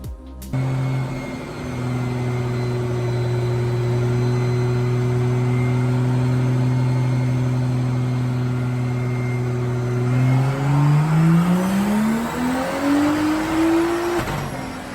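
A BMW M2 Pikes Peak race car with a Pure Stage 2 turbo at 21 psi boost idles with a steady, loud droning engine note, then revs up smoothly toward the end, close and alone.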